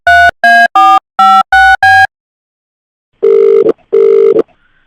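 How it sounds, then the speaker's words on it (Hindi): Six short keypad dialing beeps sound in quick succession, followed after a pause by two long, loud ringback tones as a telephone call is placed. "तुम फोन रखो, मैं मिथिलेश को फोन कर रहा हूँ।"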